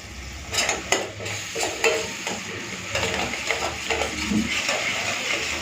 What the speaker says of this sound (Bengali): মশলাটাকে খুব ভালো মতো করে কষে নিই